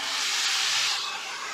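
Red wine poured into a hot pan to deglaze it while cooking duck parmentier, giving a loud, steady steam hiss that eases slightly toward the end.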